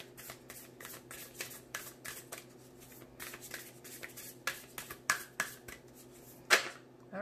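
Tarot cards being shuffled by hand, a quick series of crisp riffling bursts and snaps, close and fairly loud, ending with a sharper slap of the deck.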